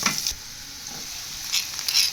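A steady, hissing sizzle of onions frying in hot oil, with a few scraping stirs, close and unaccompanied by voices.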